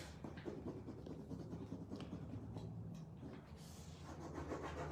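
Steady close rubbing and scratchy friction of a hand burnishing a Dixie Belle furniture transfer onto a wooden piece, a continuous dry scraping texture with no talk over it.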